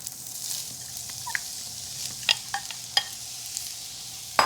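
Chopped onion sizzling in a hot pan as the start of a Creole Holy Trinity base, a soft steady frying hiss broken by a few light clicks and stirring taps.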